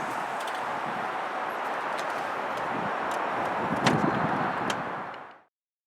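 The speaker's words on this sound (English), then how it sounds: "you could shut the trunk with this button right here" The power tailgate of a 2018 Cadillac Escalade Premium Luxury closing at the press of a button, a steady motorized whir with faint ticks and a soft thud near the end before it falls silent.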